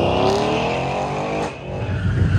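Trucks, including the Sheely Collection LT4 C10, race an autocross lap at the Goodguys West Coast Nationals shootout. A loud, close engine roar rises and shifts pitch over about two seconds, with brief tire squeal and no talk.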